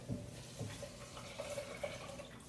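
Water poured into a cooking pot while making Jamaican pumpkin soup, a steady low splashing stream with a few soft knocks, moderately close and with no talking.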